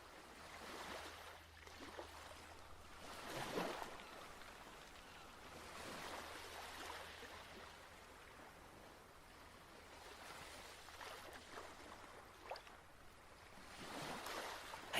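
Sea waves wash in at the shoreline, faint and distant, rising and falling in soft surges with a low rumble of wind underneath and no voices.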